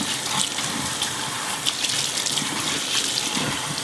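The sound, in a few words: duck legs rinsed under running tap water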